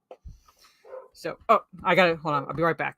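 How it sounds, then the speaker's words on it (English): A pet dog barks and yips in short loud bursts close to the microphone, mixed with someone talking over it. "And that's my dog."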